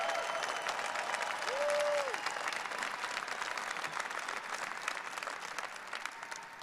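Sustained applause from a large rally crowd, a dense even wash of clapping that carries on throughout, with a brief shout rising above it early on.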